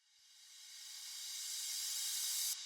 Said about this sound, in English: And then the last effect that we have here is this little reverse crash,